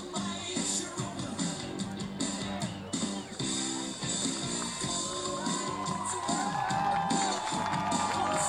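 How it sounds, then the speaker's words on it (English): Fans at a Medford Rogues vs. Portland Pickles baseball game give a steady round of applause and cheering as an ejected player walks off, a broad crowd wash with a public address voice over it. "Josh Hogan gets a nice round of applause from the fans as he walks down to the clubhouse"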